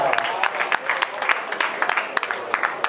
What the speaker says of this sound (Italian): Un grande saluto e applauso per Alessio Battaglia